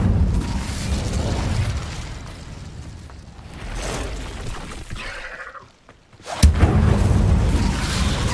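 Fire spells cast in the game Hogwarts Legacy: rumbling fiery bursts and booms during combat, a brief near-silent gap, then a sharp loud blast as the flames erupt again, with no talk.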